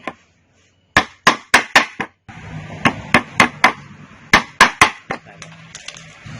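Repeated hammer strikes on a short nail, sharp ringing blows in quick bursts of several hits with brief pauses, close and loud with no talking.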